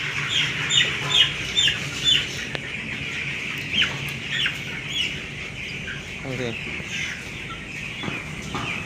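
Chickens on a poultry farm, around twenty days old, cluck and call in repeated bursts close by, with a voice speaking briefly among them and handling noise underneath.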